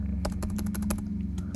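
Rapid keystrokes on a computer keyboard typing a search query into a search bar, a quick burst of crisp clicks heard alone over a low steady hum.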